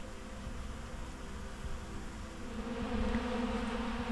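A swarm of honey bees feeding on a pound of Mann Lake Ultra Bee pollen substitute at an outdoor feeder in January, a steady, faint buzzing hum that grows slightly louder near the end.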